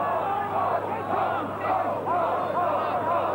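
A 25,000-strong rugby crowd at Ballymore in Brisbane chanting "gold" during the 1989 Australia versus British and Irish Lions second test, a rolling, sustained mass of voices rising and falling, distant and steady.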